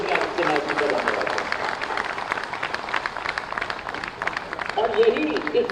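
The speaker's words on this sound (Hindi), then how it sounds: "तो हम तालियों की गड़गड़ाहट से योगी आदित्यनाथ जी का धन्यवाद" A crowd at a public event in Lucknow claps to thank Yogi Adityanath, a broad patter of many hands that rises and falls over several seconds while a voice speaks over it.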